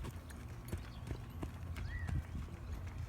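A horse trots in an arena, hooves clip-clopping in a steady rhythm at moderate distance, with a brief faint whinny partway through.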